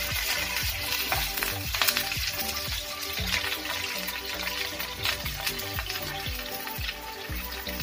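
Garlic goes into a pan of browning onions and spices and fries with a busy, crackling sizzle, while a spoon clatters and scrapes repeatedly against the pan.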